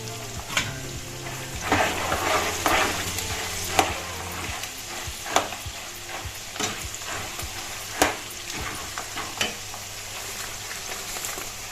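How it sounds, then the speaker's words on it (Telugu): Green chillies crackle in hot oil alongside roasted gram in a pan, a soft steady sizzle broken by intermittent sharp clicks and scrapes as the mixture is stirred. "పచ్చిమిర్చి అయితే వేస్తున్నాను."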